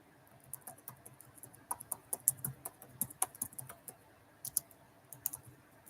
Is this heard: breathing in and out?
no